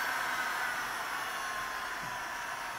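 A Bosch GHG 23-66 hot air gun runs with a constant, even blowing whoosh, like a hair dryer, steady and moderately loud throughout with no voices.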